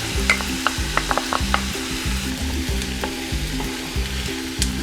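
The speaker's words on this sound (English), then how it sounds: "I'm also going to add that garlic." Onions and garlic frying over medium heat in a pan, a steady close sizzle with a low rhythmic crackle running underneath and a few brief clinks of a utensil.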